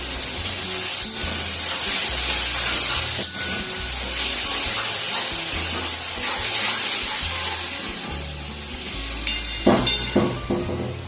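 Tomato sautéing in a pan for varan batti, a loud, dense hiss of sizzling that runs continuously, with a few sharper scraping knocks near the end and no talk.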